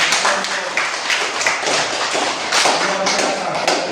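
Classroom applause for a student group, a steady patter of many hands clapping for about four seconds, loud and close, with no talk.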